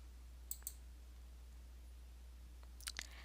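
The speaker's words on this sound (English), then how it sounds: "We'll click on Reuse Question and click on Question Set." Computer mouse clicks sound twice in quick pairs, a crisp double tap near the start and another near the end, with a quiet, steady room hum between them.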